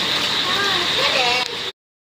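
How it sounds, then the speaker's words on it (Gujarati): Light, steady rain gives a continuous soft hiss outdoors, heard under a nearby voice talking, before the sound cuts off abruptly. "હજી જો ધીમો ધીમો ધીમો વરસાદ ચાલુ છે"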